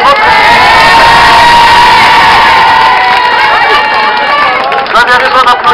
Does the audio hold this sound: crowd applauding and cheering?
yes